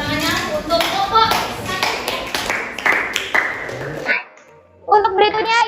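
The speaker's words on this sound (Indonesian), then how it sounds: "Ya, tepuk tangannya untuk kelompok." A classroom of students claps for a group that has just presented a lesson on the role of viruses. Sharp hand claps mix with voices for about four seconds, then stop briefly before voices return.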